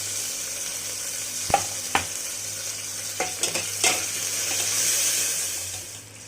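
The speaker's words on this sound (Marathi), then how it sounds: "आपण याच्यात टाकणार आहोत आता टोमॅटो" Frying onions sizzle steadily in a pan for a Maharashtrian chicken curry as tomatoes go in, with a few sharp clinks and plops of the spoon and pieces landing over a continuous hiss, with no talk.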